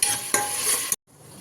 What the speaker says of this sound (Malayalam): എന്നിട്ട് നമുക്ക് ഇത് നന്നായിട്ട് ഇളക്കി കൊടുക്കാം.